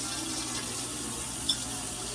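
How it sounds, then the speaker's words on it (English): Hot water runs steadily from a kitchen tap while jars are readied for canning pasta sauce and pickles, a continuous close splashing hiss with no talking. "All right, I'm gonna turn my hot water on."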